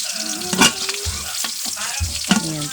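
Ingredients for a mung bean stew sauté in a pan, giving a loud frying sizzle broken by the scrape and clatter of stirring, heard up close with no voices.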